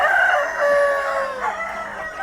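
A native Philippine rooster crows loudly and close, one long drawn-out cock-a-doodle-doo with a falling tail and nothing else over it.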